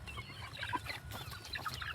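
A free-range village hen of about four months, kept for laying, clucks in short, close, repeated bursts against a quiet yard background.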